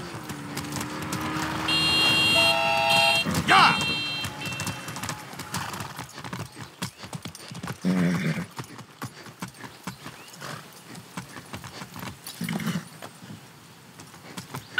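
Horse hooves clip-clop steadily at a walking pace in Far Cry 6, with a brief whinny and a few game chimes early on, no talking.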